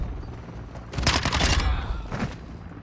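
Dense burst of automatic gunfire in the Modern Warfare shooter, a rapid volley that swells loudly around the middle and trails off into a shorter second burst, no talking over it.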